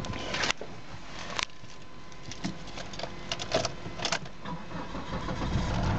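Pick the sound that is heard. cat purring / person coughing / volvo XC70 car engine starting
volvo XC70 car engine starting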